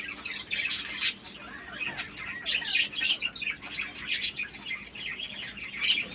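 King quail birds and chicks kept for sale chirp and tweet in quick, overlapping bursts, close and moderately loud, with a flutter of wings mixed in.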